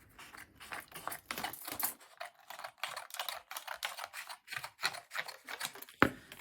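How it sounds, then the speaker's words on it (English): Thin cardboard is snipped with scissors, a quick run of short crisp cuts repeating steadily at close range with no talking. "I'm just going to snip another thin piece of cardboard up"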